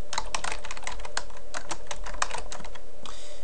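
Rapid keystrokes clatter on a computer keyboard while filling in a data entry form, a steady run of close, crisp taps under a constant background hum.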